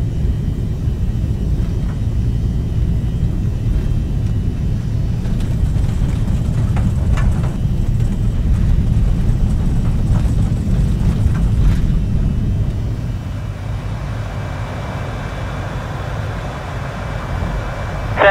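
A steady, loud low roar from airliner engines throughout, with the rumble dropping slightly in level near the end as the aircraft rolls away on take-off.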